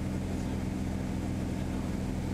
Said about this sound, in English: The engine sounds no different than before